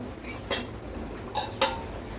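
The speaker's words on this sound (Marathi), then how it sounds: "10 ते 12 मिनिटं झाले, झाकण काढून बघूया आपण." A metal lid lifted off a pot of simmering fish roe, giving a sharp clink near the middle followed by two softer knocks and rattles, heard up close in a quiet kitchen.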